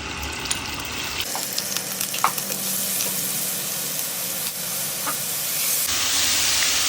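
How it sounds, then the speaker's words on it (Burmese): Mala spicy chicken feet frying in hot oil, a steady close sizzle and hiss that swells to a louder, brighter crackle near the end, with a few faint stirring clicks and no talking. "ကဲဒါဆိုရင်ကျွန်တော်စတင်ကြော်မယ်ကြော်တဲ့ခါကျရင်စီရင်ထည့်မယ်"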